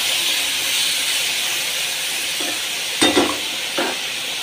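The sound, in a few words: potatoes boiling in poppy-seed paste water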